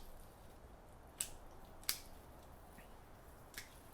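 Pruning shears snip through Japanese maple stems in three sharp, crisp clicks spaced apart, faint and close against a quiet outdoor background.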